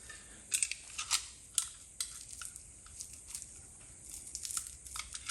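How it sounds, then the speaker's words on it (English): Close, crisp snips of scissors cutting through the packaging of a Lebanese Black fig, several quick cuts in an irregular rhythm with crinkly rustling between them. "A pair of scissors could be useful at the moment."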